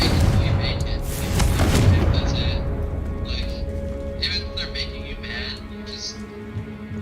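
Confringo fire-spell blasts in the video game Hogwarts Legacy: a loud booming burst with crackling, rumbling tail, followed by fainter repeated bursts over a continuous game background, with a voice calling out over the action.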